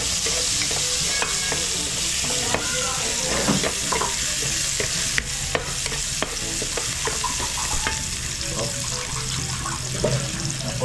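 Onions sauté in a pan for Batangas lomi, a loud steady sizzle with scattered stirring scrapes throughout, and a voice faintly present in the background.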